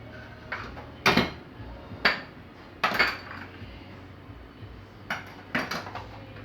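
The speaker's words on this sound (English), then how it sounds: "I'm going to put these containers here in the sink here." Plastic food containers set down one after another in a kitchen sink, a series of sharp knocks and clatters at an irregular pace, close and fairly loud with quiet gaps between them.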